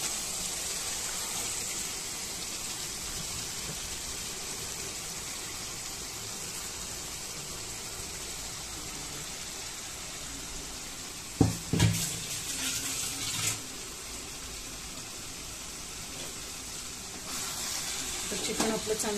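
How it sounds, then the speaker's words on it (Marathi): Chicken pieces sizzling as they are stirred into ground masala in a hot pan for chicken sukka, a steady frying hiss throughout with a few louder clatters of stirring near the middle and end. "तर चिकन आपलं चांगलं मिक्स करून घेऊया मसाल्यामध्ये."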